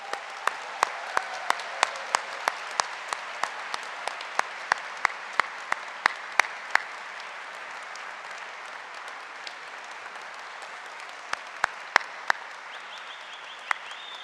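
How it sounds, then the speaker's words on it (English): A room full of people at a university welcome event applauds students, steady dense clapping with sharper individual claps standing out, continuing for over ten seconds at moderate distance. "give a hearty round of applause to all of our Luther students"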